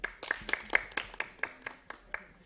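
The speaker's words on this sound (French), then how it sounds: "Applaudissez pour elle." Schoolchildren in a classroom clapping for a classmate, a sparse, uneven patter of separate hand claps close by, fairly quiet and loosening toward the end.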